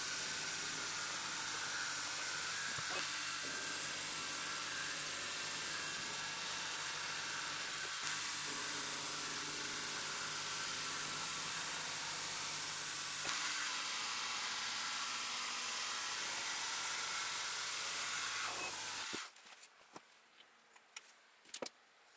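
A milling machine cuts the sides of a part clamped in a vise, a steady high whine and hiss of machining that runs on for most of the stretch before stopping, followed by a few faint clicks.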